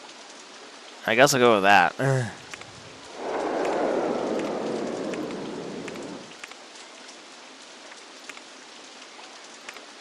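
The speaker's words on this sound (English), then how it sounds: "Although it's still raining." Rain falls in the OpenRCT2 park-building game, a soft hiss that swells for a few seconds after a brief spoken line, then fades to a faint background with scattered drops.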